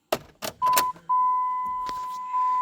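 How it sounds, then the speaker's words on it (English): Ignition key turned on in a 12-valve-swapped truck with electrical faults: a few short mechanical clicks and a key rattle, then a steady electronic chime tone that drops briefly and resumes, close and clear with no talk. "Turn the key on."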